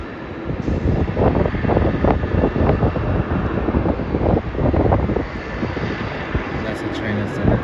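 A China Southern Airlines airliner arriving from Guangzhou at Melbourne Airport gives a steady, loud engine roar with wind buffeting the microphone throughout, and a voice talks over it.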